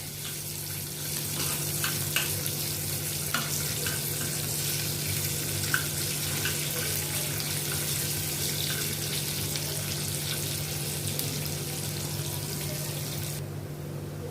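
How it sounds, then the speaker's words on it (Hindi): Onion fries in a pan with a steady, moderate sizzling hiss, a faint low hum and a few soft clicks, lasting throughout with no speech. "इसको मैं अच्छी तरह से थोड़ा प्याज को मैं इसमें कुक करूँगी, जैसे इसका कच्चापन निकल जाए।"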